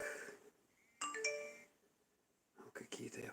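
A phone chimes with a short, bright melodic message notification, heard once and clearly close by, between bits of quiet talk.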